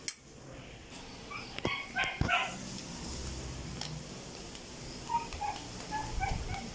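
Several dogs barking and yipping in short, excited bursts, some close and some farther off, with small whimpers in between.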